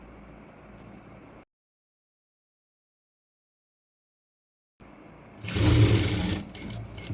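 A sewing machine stitches a kurti seam in a short, loud burst that follows a low hum and a silent gap.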